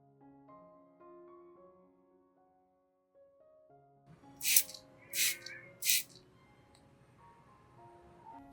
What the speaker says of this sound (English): Spraying directly onto the orchid will help it grow quickly.